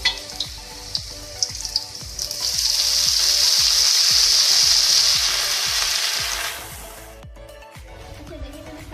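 Mustard greens hit a hot pan with a loud sizzle that swells for several seconds and then fades, with faint clinks of utensils before and after.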